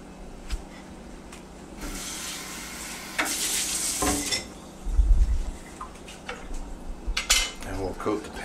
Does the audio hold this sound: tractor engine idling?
no